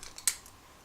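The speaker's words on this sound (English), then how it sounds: "I'll cut this yarn" Scissors make a single quick, crisp snip through crochet yarn, preceded by a couple of faint light clicks, in an otherwise quiet room.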